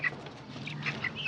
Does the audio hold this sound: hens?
yes